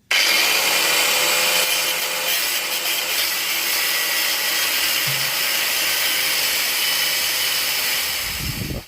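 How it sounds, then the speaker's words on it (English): An angle grinder cuts through a seized, crusty rear suspension arm bolt on a Ford S-Max. The harsh, high, whining grind is loud and continuous for nearly nine seconds, then cuts off abruptly at the end. "we'll get the angle grinder and we'll just cut the bolt under there"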